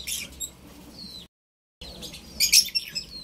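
Shrill, high-pitched chirps and squeaks from pet lovebirds sound up close in quick bursts, split by a short moment of silence.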